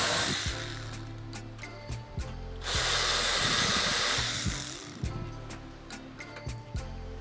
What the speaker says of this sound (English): Okay, so now we put all these bolts back in place.